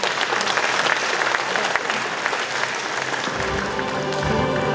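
An audience at a Cheongdo County 2040 vision ceremony claps loudly and steadily, a dense close burst of applause that fades a little toward the end.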